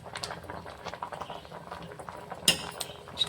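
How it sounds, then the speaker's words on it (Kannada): Payasam, a rice pudding, bubbles as it starts to boil in a pot, a soft popping burble punctuated by a few sharp clinks of a spoon against metal, with no talking. "ನೋಡ್ರಿ, ಇಲ್ಲಿ ಕುದಿಲಿಕ್ಕೆ ಸ್ಟಾರ್ಟ್ ಆಯ್ತು."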